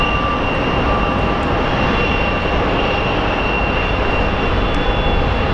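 A JSX Embraer 145 airliner arriving from Burbank at Phoenix Sky Harbor airport, its engines producing a loud, steady, close roar that fills the whole stretch without a break.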